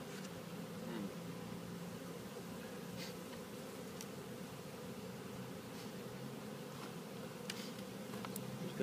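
A dense, continuous buzz of many honey bees around a hive fills the air, steady and close, with occasional individual bees zipping past.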